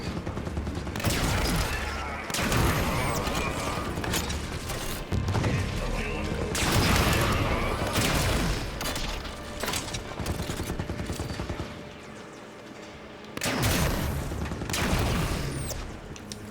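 Automatic turrets fire in a Halo 5 campaign battle, sustained loud bursts of gunfire and mechanical clatter filling the scene with short gaps, with voices talking over the combat.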